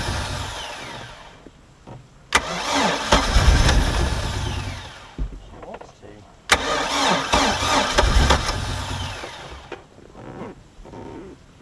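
A Mercruiser 3.0 boat engine that sat for nine years cranks twice, each attempt a loud close churning roll that catches briefly and winds down, with quiet gaps between tries and no speech.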